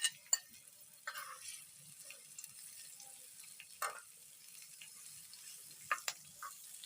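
Mixed vegetables roast in a pan with just a little oil, giving a faint, steady crackle broken by a few sharp pops and clinks.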